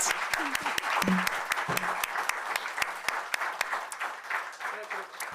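An audience at an India rural colloquium claps in sustained applause, with sharp individual claps standing out against the crowd, and a voice speaks briefly over it.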